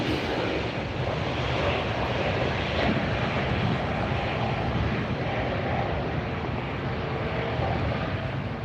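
Lufthansa A380 airliner after landing at LAX, giving a steady, dense engine roar with a broad rushing wash that holds at a constant level throughout, heard from nearby.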